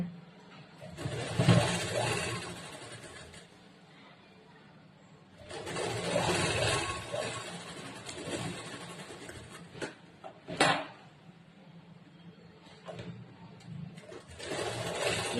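A sewing machine stitches a blouse in quiet, separate runs, each a faint whirring burst of a few seconds with hushed gaps between them.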